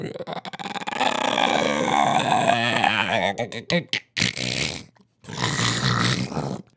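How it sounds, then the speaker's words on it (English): A monster's deep, rough growl in a spooky Halloween story about a dragon swells loud and close, rumbling continuously before breaking into short snarling bursts separated by brief silences. "The growling got louder and louder."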